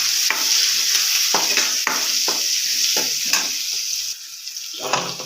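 Ground spices including coriander powder, turmeric and garam masala being stirred as they fry in a pan: repeated scraping strokes of a spoon over a loud, close sizzle, the hiss dropping briefly near the end.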